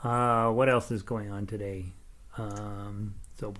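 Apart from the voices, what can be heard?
No everyday noises stand out.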